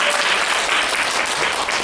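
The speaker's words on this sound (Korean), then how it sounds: "박수 한번" An indoor audience at a company site introduction claps for a team leader, a dense steady burst of applause at moderate level, continuous across the moment without voices.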